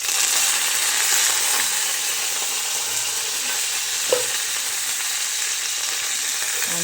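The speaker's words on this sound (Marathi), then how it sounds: "तेल गरम करायला ठेवले. आता आपल्याला काय करायचं? कढीपत्ता टाकायचा." Curry leaves hitting hot oil in a pan while cooking vermicelli upma, giving a loud, continuous close-up sizzle with one sharp crackle midway, no voices.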